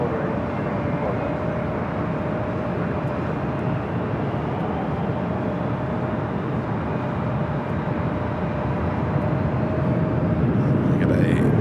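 An American Airlines A321 on its takeoff roll on runway 24 left at Los Angeles International Airport, a steady broad jet roar that holds at constant loudness throughout, heard from a distance.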